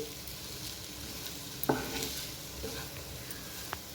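Spiny gourd curry (boda kakarakaya) being stirred in a pan, with soft scraping strokes and a few sharper clinks of the spoon over a faint, steady sizzle of frying, heard close and fairly quiet.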